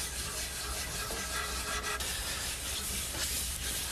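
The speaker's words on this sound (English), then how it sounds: "I'm taking a clean rag and rubbing it in a circular motion" A clean rag rubs wood stain into a pine Shaker step stool in circular motions, giving a steady, close, unbroken scrubbing hiss that carries through the whole clip with no voices.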